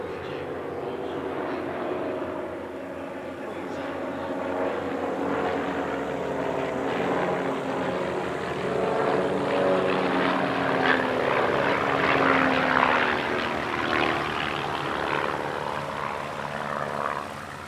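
Propeller aircraft of an airshow display team roar overhead during a twisting formation manoeuvre, a loud sustained engine drone that swells and wavers steadily throughout, with no voices.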